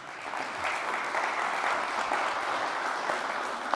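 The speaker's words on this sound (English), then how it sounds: "Warm applause." Warm applause from a conference audience at an e-skills campaign opening as a speaker comes on stage, steady dense clapping throughout without a break.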